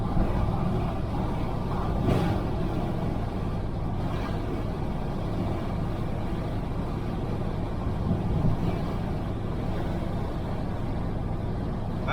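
A 1968 Chevelle Nomad rolls along the road with side-pipe exhaust, a steady, dense low engine and exhaust drone holding constant throughout, close and loud with no talk.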